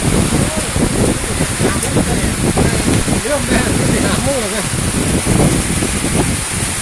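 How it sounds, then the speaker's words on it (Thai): A dense, steady hiss of rain over rice paddies during the rainy planting season carries on throughout, while a person talks loudly close by over the downpour. "ฝนตกมาแล้วพี่น้อง"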